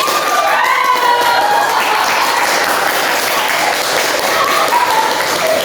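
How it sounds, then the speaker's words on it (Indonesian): Audience applause for a group at an award announcement, with dense steady clapping filling the whole stretch and some cheering voices mixed in. "silakan tepuk tangan untuk genetik."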